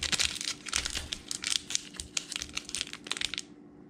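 Plastic wrapping is peeled off Pokémon card packs, giving a quick run of close crinkles and crackles in uneven bursts that stop abruptly at the end, with no voices.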